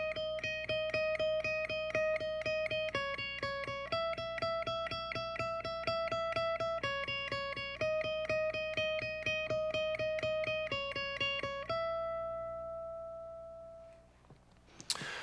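Electric guitar playing a repeating picked line for a worship song, quick even notes in groups that step upward, then one long ringing note that fades out, ending in a brief noisy swell, moderately quiet and with no talking.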